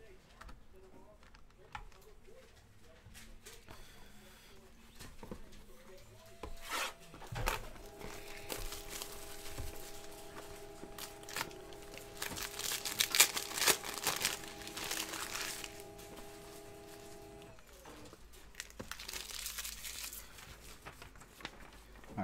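Packs of 2019 Topps Inception baseball cards are torn open, with soft crinkling and tearing of foil and card rustling throughout, quiet and close, while a voice talks over much of it.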